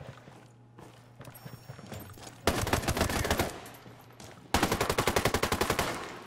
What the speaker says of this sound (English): Okay, preemptive shooting